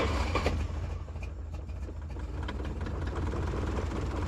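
Ford Escort Mk2 engine with the choke out settling into a low, steady idle, close and fairly quiet, with a continuous rumbling hum and small irregular ticks throughout, no talking.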